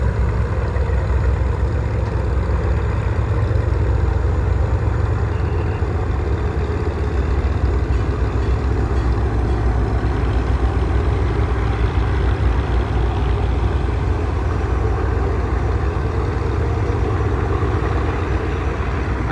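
Passenger launch MV Farhan 10 churns along on its engine while overtaking another launch, a steady loud low diesel drone with water rush, continuous and unbroken throughout.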